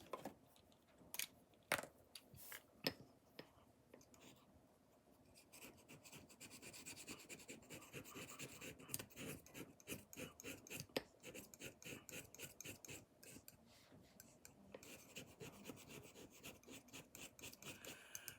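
Soft pastel stick in Granny Apple Green scraped into powder, a dry rasping scratch repeated in quick uneven strokes, close and fairly quiet, with sharper taps near the start.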